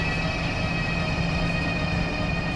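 A train accelerates in the railway simulation game Transport Fever 2, giving off a continuous, loud mechanical rumble with a thin high whine on top.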